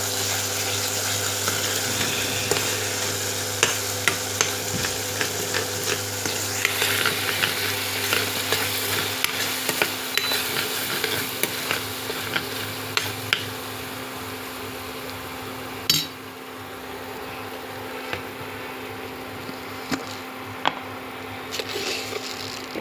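Potatoes with chili powder sizzling in a pan as they are stirred, soft scraping strokes scattered over a constant frying hiss and a low hum, close by with no talk.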